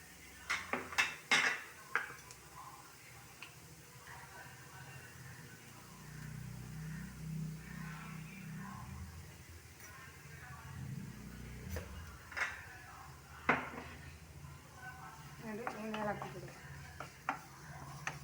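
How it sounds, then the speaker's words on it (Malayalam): Anchovy thoran being stirred in a pan, with scraping and clinking of a spoon against metal at the start and again toward the end, over a low steady hiss of the cooking. "എന്നിട്ട് ഇളക്കാം ഒന്ന് വഴണ്ട് വരണം"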